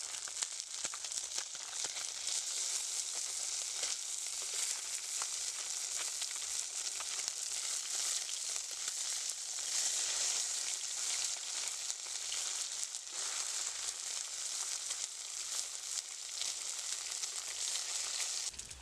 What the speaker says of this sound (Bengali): মাছগুলো আমার এক পিট ভাজা হয়ে গেছে আমি তো মাছগুলো উল্টিয়ে দেবো